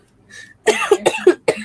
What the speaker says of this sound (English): Sorry to those who I just coughed in your ear.